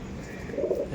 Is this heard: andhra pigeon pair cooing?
yes